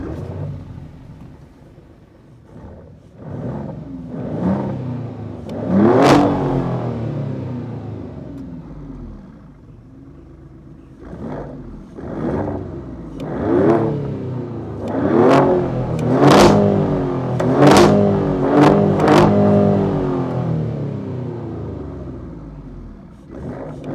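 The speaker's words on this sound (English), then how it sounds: "It revs all the way to redline." A Maserati Grecale Trofeo SUV engine revs repeatedly through a loud exhaust, with short sharp blips rising to high pitch up to redline, then a series of rapid revs near the end.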